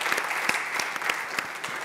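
A church congregation applauds and cheers, a dense wash of clapping from many hands that stays steady and loud for the whole short stretch.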